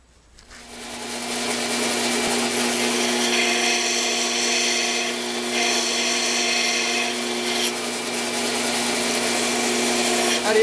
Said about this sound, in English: The rest we'll do on the belt sander.